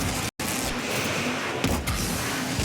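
Car engines in the Rocket League video game make a steady, dense roar that runs without a break apart from one brief cut, sounding loud and continuous with no clear speech.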